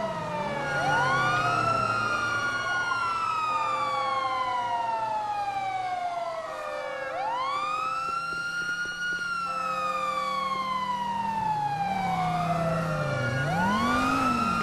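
Police sirens from the video game GTA V wail in long, repeating rising and falling sweeps, loud and steady with a low vehicle rumble beneath and no talking.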